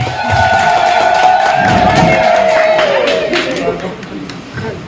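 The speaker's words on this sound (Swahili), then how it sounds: "Vijana, makofi na vigeregere." A youth crowd at an outdoor loan-handover gathering applauds and ululates loudly, a continuous wall of cheering and shrill trilling voices that holds steady and then eases off near the end.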